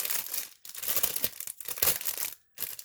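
A small box of Christmas tree decorations, including a little sleigh, being opened up close: bursts of crinkling, rustling packaging and tearing, separated by brief silent gaps.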